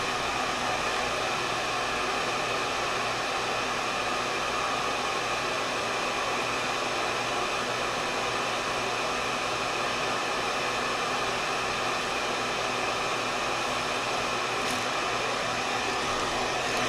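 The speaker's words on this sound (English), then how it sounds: "if you could let me know in the chat if the hair dryer is too loud for y'all" A hair dryer runs steadily and close by for the whole stretch, a dense, even broadband whoosh with a constant low motor hum beneath it and no voices over it.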